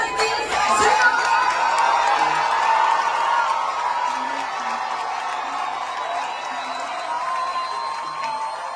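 A live comedy show audience in Paris erupts in loud cheering, whoops and shouts, the crowd noise swelling at first and then holding as a sustained roar of voices.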